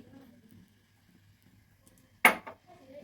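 A carrot mixture stirred with ghee in a pan for a sweet pithe, heard as one sharp metallic clank of a utensil against the pan and a softer follow-up knock after near silence.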